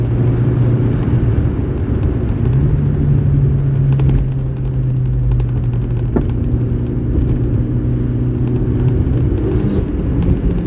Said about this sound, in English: Now we make the accelerator into the on position.